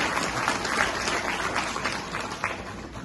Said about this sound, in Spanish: Pido respetuosamente a todos ustedes un aplauso de reconocimiento a la amabilidad de estas dos autoridades.